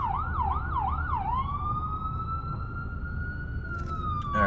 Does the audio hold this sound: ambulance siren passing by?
yes